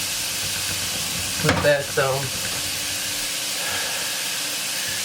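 Onions and ground beef cooking together in a pan, a continuous steady sizzle with a brief scraping stir in the middle and a few quiet words spoken over it.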